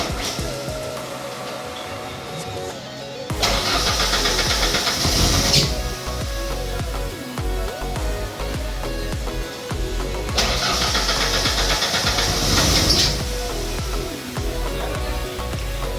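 A 1996 Ford Ranger engine cranks and catches, then runs loud and close, surging twice as gas is given before settling back to a rough idle.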